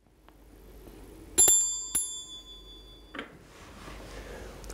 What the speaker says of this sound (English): What a lovely bell.